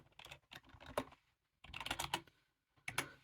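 Keystrokes on a computer keyboard while a username is entered during Raspberry Pi 5 setup, coming in three short bursts of quick, close clicking separated by brief pauses.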